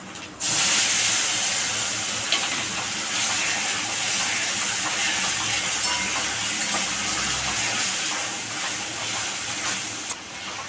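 Masala of ginger, garlic, cumin, green chili and tomato fries in a hot pan for a cauliflower roast, a loud, steady sizzle that starts abruptly and holds for about ten seconds before cutting off.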